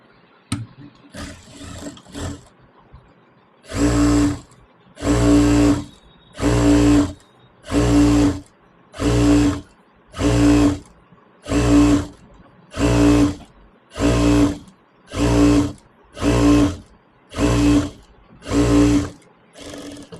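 A sewing machine stitches a dress made from an old saree, a few light clicks first, then a long even series of short, loud motor bursts repeating at a steady rhythm up close.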